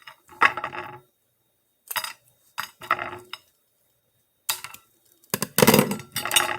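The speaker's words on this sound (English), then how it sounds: "I'm going to cut the vanilla beans in half," Scissors snip through vanilla beans in a quiet kitchen, giving a few short, crisp cuts spaced apart with brief silences between, the last pair of snips louder and closer.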